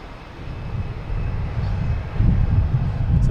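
A United Airlines plane arriving at Boston Logan from Newark: a steady, broad jet rumble that swells gradually and grows louder toward the end, with no voices.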